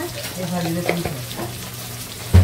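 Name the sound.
spices frying in a pan with salt and turmeric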